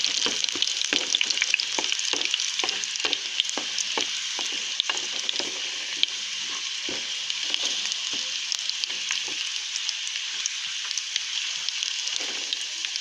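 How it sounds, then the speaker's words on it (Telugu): Onions and curry leaves fry in hot oil for a tempering, giving a steady close crackling sizzle with scattered pops and occasional stirring scrapes throughout. "ఇలా తాలింపు ఫ్రై అయ్యేంత వరకు ఫ్రై చేసుకుందాం."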